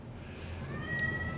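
A black cat meows once, a short clear cry close by over a quiet room hum.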